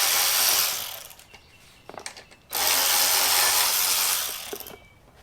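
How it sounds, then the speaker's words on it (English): Craftsman ratchet loosening bolts on a McLane reel mower's rear drive assembly: two sustained bursts of rapid, loud ratcheting clicks close by, separated by a quieter stretch of scattered handling taps, with no talking. "I've got this fancy deal for Christmas, Craftsman ratchet"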